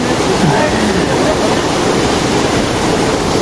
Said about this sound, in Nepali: यही हो अँधेरी झरना ढुङ्गाबाट पानी झरेको रहेछ